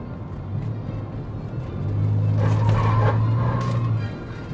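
Car tires squeal through a turn on a winding mountain road near Gatlinburg, a tonal whine rising and holding for about two seconds over steady engine and road noise inside the car.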